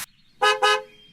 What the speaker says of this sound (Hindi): तभी अनहद को टैक्सी का लगातार बजता हुआ हॉर्न सुनाई दिया।